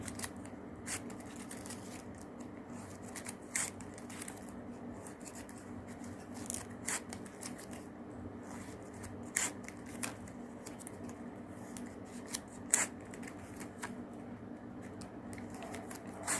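Scissors snipping the end of a folded ribbon while crafting a flower, a quiet series of close, crisp cuts and small rustles spread across the stretch with no talking.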